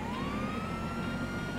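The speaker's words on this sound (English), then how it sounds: "I love having the sirens on" Police sirens wail in GTA 5 during a highway chase, a steady rising electronic tone held loud and continuous over dense traffic and engine rumble, with no speech.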